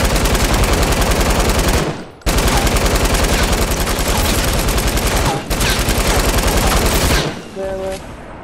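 An LMG light machine gun in Fortnite fires long, rapid bursts, loud and close, with two brief pauses in between and a few pickup tones at the end.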